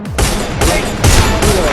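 Loud, dense automatic gunfire in the Free Fire mobile battle game, rapid bursts fired back to back with barely any gaps between them, close and dominating.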